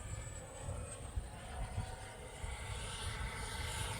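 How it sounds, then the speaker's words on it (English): Viper Jet RC electric ducted fan model jet at full throttle, a steady broadband rushing roar with a high whine, sustained and fairly distant as it passes overhead. "Here we go, full throttle on a 64. Nice throaty sound."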